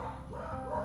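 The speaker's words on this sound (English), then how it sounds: "the owner just grabbed the dog so they can stop barking at each other." A dog gives a brief, faint bark or yip in a short burst, part of dogs barking at one another, heard alone with no talk.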